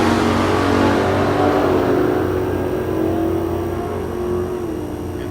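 A drag race car engine rumbles loud and close at Mid America Dragway near the tower, its steady revving roar holding through the whole stretch before easing off slightly toward the end.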